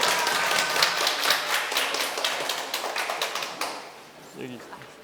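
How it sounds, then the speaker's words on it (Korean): An audience gives a lecturer a welcome of moderate clapping that thins into scattered claps and fades out, with a voice starting to speak toward the end. "박수로 맞아주세요."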